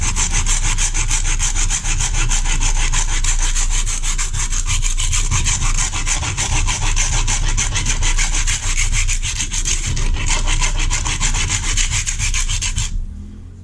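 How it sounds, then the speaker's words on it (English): Kitchen knife ground on a sharpening stone at a steep angle in a backyard, a loud, continuous rhythmic scraping of steel strokes back and forth that stops abruptly at the end. "sharpen it up at a steeper angle"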